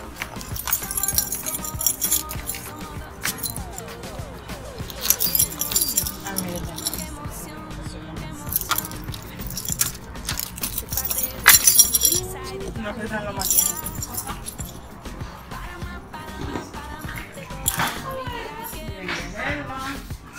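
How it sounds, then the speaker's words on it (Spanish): Keys jangle as they are pulled out of a suitcase at a house, with repeated metallic clinks and rattles scattered through a long stretch of nearby talking and household movement. "Ahora, voy a traer la maleta para sacar las llaves."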